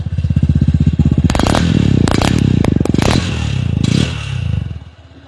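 A motorcycle engine runs loud and close, its rapid throbbing exhaust pulses climbing in revs with clattering, scraping bursts through the middle before the engine note drops away near the end.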